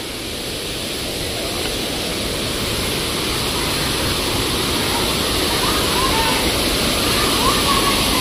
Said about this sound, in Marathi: धबधबा भरपूर ओसंडून वाहतोय, त्याला आवाज आता भरपूर तिथे यायला लागलेला आहे.